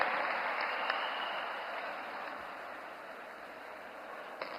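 An audience at a public event applauds to welcome Chief Minister Dr. Mohan Yadav, a steady, dense wash of clapping heard from some distance that holds even and slowly fades slightly, with no speech.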